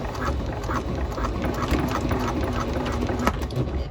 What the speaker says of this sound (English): then we're going to sew along that bottom folded edge again